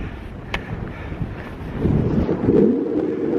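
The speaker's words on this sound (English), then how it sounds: "it's very windy up here" Winter wind roars across a high peak summit in the MacIntyre Range near Algonquin, buffeting the microphone in a low, rumbling rush that strengthens into heavier gusts toward the end.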